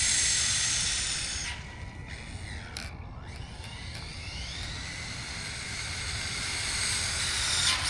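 An Arrma Typhon 6S RC car on a 3S battery runs at full throttle, a loud high-pitched electric motor whine and hiss that dips, swells and passes near, with no voices.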